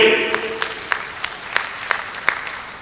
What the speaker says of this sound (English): give him a round of applause already